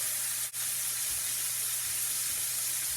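A steak flipped in a hot pan sears with a steady, loud broadband sizzle, a brief dip as the meat turns over, then continuous crackling hiss with no talk.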